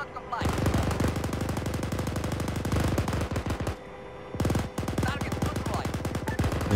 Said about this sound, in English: we've got more mortars landing